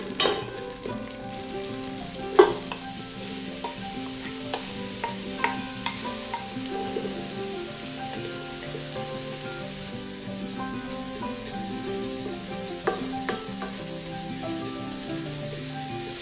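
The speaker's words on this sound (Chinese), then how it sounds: "我们就放入金针菇跟红喜菇，一样把它煸到金黄色。" Enoki and red mushrooms sizzle and fry steadily in oil in a pan, cooking toward golden for a vegan taro congee, with a soft continuous crackle and occasional sharper pops and stirring clinks, no voices over it.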